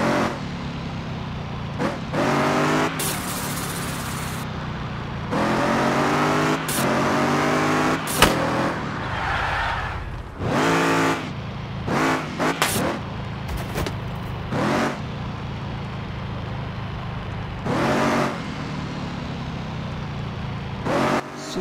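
A modified car is driven out toward the highway, its engine revving and surging in repeated bursts, close and loud, with brief quieter gaps between pulls.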